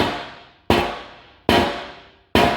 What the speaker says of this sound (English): But when you drop a hammer,